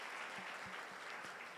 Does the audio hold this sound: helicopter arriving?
no